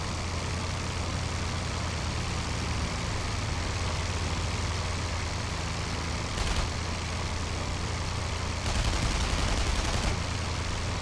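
Machine guns rattle in dense, continuous bursts during a WWI dogfight in the air combat game IL-2 Flying Circus, layered over a steady engine drone, with brief louder flurries near the end and no speech.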